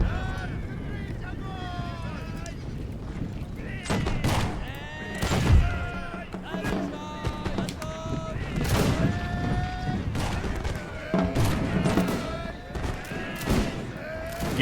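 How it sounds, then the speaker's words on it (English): Musket volleys fired by rank in a video game battle, rapid overlapping bursts of gunfire rolling across the field amid wind-like rumble, with voices talking over the shooting throughout. "that sort of firing by rank that we're doing"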